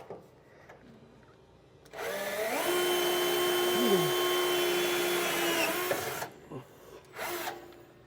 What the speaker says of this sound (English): I'm just going to drill all the way through.